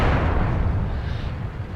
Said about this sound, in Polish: Teraz strzał w tył. Drugi strzał w tył.